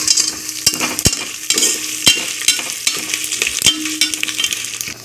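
Whole cinnamon and cardamom spices frying and being stirred in hot oil for mushroom biryani, with a steady close sizzle broken by repeated sharp scrapes and taps of a spoon against the pan.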